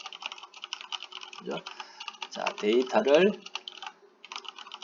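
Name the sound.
typing on a computer keyboard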